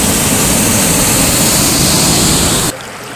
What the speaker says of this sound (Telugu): మీరు జలపాతంలో పోతున్న నీళ్ళ సౌండ్ కూడా వినండి ఒకసారి.